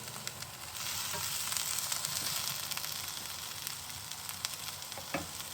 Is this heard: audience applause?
no